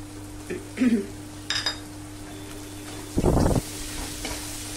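Peas tossed in a pan with ginger and garlic for dal fry give a soft sizzle under a faint hum, with a few short stirring scrapes and one louder burst of frying near the end.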